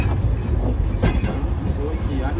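Steam train at Chasewater Railway in the UK rolls past close by, a steady broadband rumble and rattle with one brief louder surge, while people chat over it.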